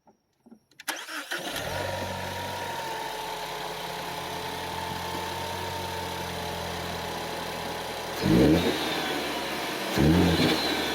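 A 2018 Ford F-150 truck engine cranks and starts, settles into a loud steady idle nearby, then revs up sharply twice near the end.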